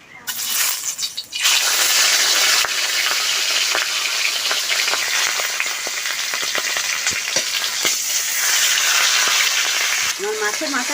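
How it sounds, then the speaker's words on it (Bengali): A fish head fries in mustard oil in a kadai, giving a loud, steady sizzle and crackle that runs almost the whole time after a brief quieter start. "মাথা ভাজার জন্য কড়াইতে সরষের তেল দিয়ে দেব।"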